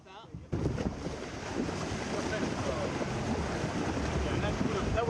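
Ocean surf rolling in at the shore during a kite outing, a steady loud wash of breaking waves with heavy wind rumble across the microphone, starting abruptly after a brief quiet moment and continuing without pause.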